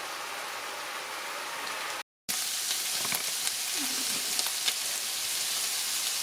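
Minced meat and onions browning in a pan for a slow cooker bolognese give a steady, close sizzle with soft crackles and faint pops. The sizzle cuts out for a moment near the start, then carries on alone without any talk.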